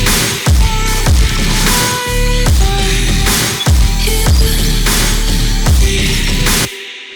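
A future bass drum loop of punchy kicks, snares, a clap and glitchy stutters, with background kicks underneath, repeating in a steady rhythm. It plays loud and close with no talking, then cuts off abruptly near the end.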